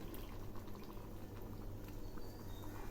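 Water poured into a pot of simmering mutton curry cooked with chana dal, a steady bubbling and liquid wash with faint drips, close and continuous, no voices.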